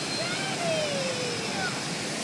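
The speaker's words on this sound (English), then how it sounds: "There's the waterfall." A steady, broad rush of water from the waterfall beside the Old Mill on the river in Pigeon Forge, Tennessee, with a faint thin whistle drifting over the constant roar.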